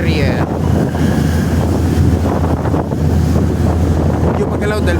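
Rough sea waves wash and churn in Sydney Harbour on a ferry crossing from Circular Quay to Manly, a constant loud roar with heavy wind buffeting the microphone and a low engine-like rumble underneath.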